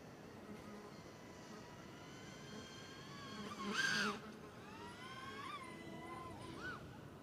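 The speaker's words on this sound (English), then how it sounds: "love this drone" A small drone flies in high wind outdoors at Sherwood Pines, giving a faint, whiny rotor buzz that rises and falls in pitch as it manoeuvres, swelling briefly louder midway over windy background noise.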